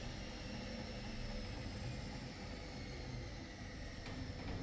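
A Whirlpool washing machine with an F01 error code runs its motor up in a direct spin, a steady broadband whirring hum that builds continuously, close and fairly loud, with no voices.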